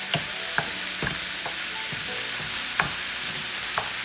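Broccoli in a miso tahini stir fry is tossed in a hot pan, a continuous close sizzle broken by several sharp scraping knocks of utensil against pan at uneven intervals.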